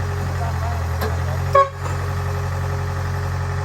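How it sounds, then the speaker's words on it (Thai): A short car horn toot sounds once over a steady engine hum, with indistinct voices nearby. "แตรหน่อยแป๊ดแป๊ด"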